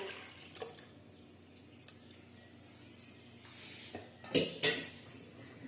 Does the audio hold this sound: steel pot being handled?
yes